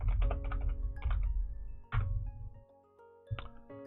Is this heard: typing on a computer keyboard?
yes